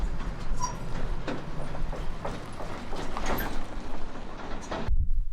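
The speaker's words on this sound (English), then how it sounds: "More help arrives from the west, another eastbound stack train." An eastbound Union Pacific stack train arriving on the transcontinental line, a steady low rumble with rhythmic rattling and clanking of cars, moderately close, cutting off abruptly at the end.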